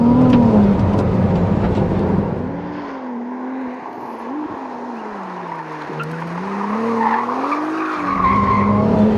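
A Ferrari 296 GTB with a 2.9-litre twin-turbo V6 brakes and corners hard, tires squealing loudly in long, wavering screeches over the engine's steady drone.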